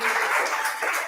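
Schoolchildren in a classroom clap for a student group, a brief, dense patter of hands at moderate loudness.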